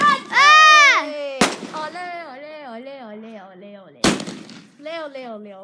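Big, loud fireworks explode close by in two sharp booming bursts, with people shouting, cheering and talking excitedly around them.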